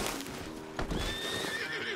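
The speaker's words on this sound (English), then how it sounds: "You got that horse licked," A horse in the Red Dead Redemption 2 video game whinnies with a short, high neigh rising over a low background of game ambience, close and clear without any talk.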